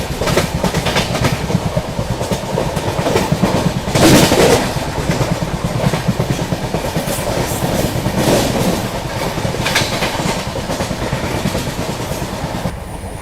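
The 22222 Rajdhani Express runs at around 100–110 km/h through the Igatpuri–Kasara stretch, a loud, continuous rumble with rhythmic wheel clatter over rail joints, heard from on board, with no talking.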